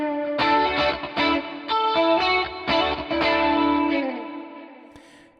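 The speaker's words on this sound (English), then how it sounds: "into my vibe setting, which is chorus" Electric guitar through a Quad Cortex chorus preset strums chords in a steady rhythm, shimmering with a warbling chorus effect, then lets the last chord ring out and fade.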